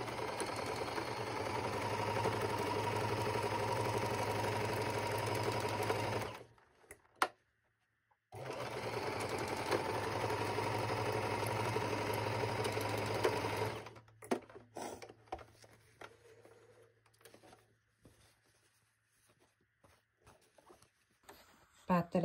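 A sewing machine runs steadily while zigzag stitching to finish the raw edges of fabric for a small pouch, in two long runs split by a brief pause, then quieter handling noises follow.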